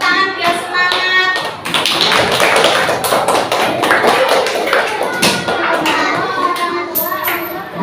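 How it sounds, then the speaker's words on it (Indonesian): A classroom of children clap their hands together for a classmate, a dense run of sharp claps that lasts the whole stretch at close range, with children's voices mixed in under the clapping. "Yuk, kasih tepuk tangan biar semangat."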